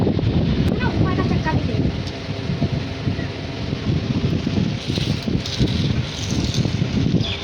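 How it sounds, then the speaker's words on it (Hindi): Heavy wind buffets the microphone in continuous low rumbling gusts, with rustling throughout and a voice faintly underneath. "बहुत ज़्यादा हवा चल रही है"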